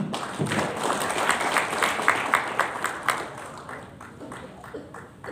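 A seminar audience in Jakarta claps in a burst of rhythmic applause that gradually thins out and fades.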